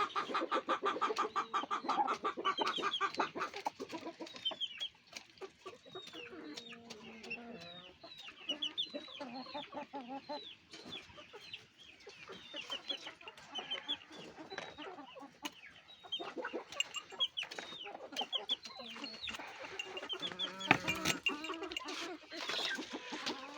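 Indian game (Hint Horoz) roosters and hens cluck and call continuously at close range, with dense overlapping bird chatter, occasional louder squawks, and a sharp burst near the end.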